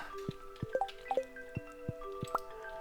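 Watering can sprinkling a cactus in the Stardew Valley farming game: a quick, uneven run of about seven splashy drips and squishes, each carrying a bright chime-like tone, close and clear with nothing else behind them.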